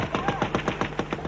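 Gunfire from the Turkish side at the Kurdish border rattles out in a rapid burst of about ten evenly spaced shots, like sustained automatic fire, fairly distant.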